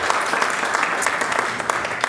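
Audience members at a Morro Bay city council meeting clap in a brief, even burst of applause at moderate volume, with no voice clearly standing out over the clapping.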